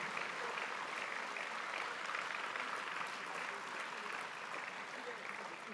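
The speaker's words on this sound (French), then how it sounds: "j'aimerais que vous l'applaudissiez très fort" Sustained audience applause fills a hall at an event, a dense, even wash of clapping held at moderate volume for several seconds, with faint murmuring underneath.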